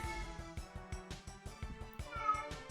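A pet cat meows in an agitated mood during a nearby thunderstorm, the meows faint and mixed under a rhythmic, pulsing game soundtrack with steady repeated beats.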